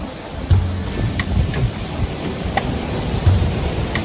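Sudden rain shower at a Sri Lankan waterfall: a steady broadband wash of rain and falling water, with low rumbling gusts surging at intervals, no voices.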